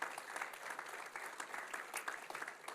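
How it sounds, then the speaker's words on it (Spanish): A church congregation claps in praise, a steady dense patter of many hands filling the room with no voice on top. "Denle el aplauso al Señor en alabanza"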